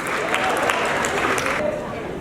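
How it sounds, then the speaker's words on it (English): Audience applause and crowd noise at an evening gala fill the room steadily, with scattered sharp claps on top of a continuous wash of sound. Voices mix in with the clapping, and the noise drops slightly near the end. "Clap it up. Clap it up."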